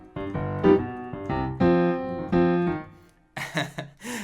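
Piano plays a short passage from a piece as a series of chords and notes. It ends with a few higher, brighter notes in the last second.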